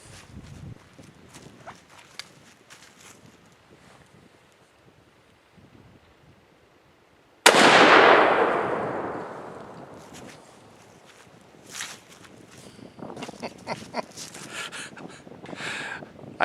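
A single loud gunshot from the right barrel of a double rifle cracks out sharply outdoors, then decays through a long rumbling echo while light wind noise and small movement sounds continue before and after.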